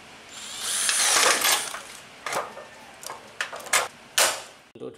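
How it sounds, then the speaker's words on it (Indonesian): Steel hollow-section chair frame being fastened with rivets by a power tool: a long, loud buzzing burst followed by several short, sharp mechanical bursts spaced apart, with no talk. "Eratkan dengan paku rivet."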